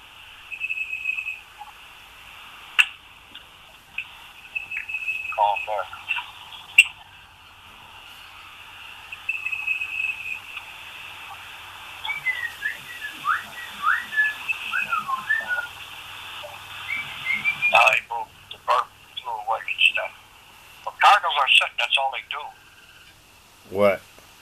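A cardinal sings loud, clear whistled phrases repeated at intervals, ringing out near the microphone across a quiet outdoor setting with hills, trees and a river nearby, with someone speaking at times between the songs.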